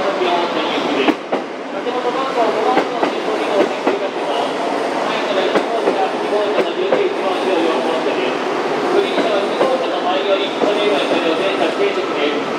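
A 289 series Kounotori 1 limited express bound for Kinosaki Onsen rolls into Osaka Station with rumbling wheels and rhythmic clicking over rail joints, while a station announcement plays over the noise.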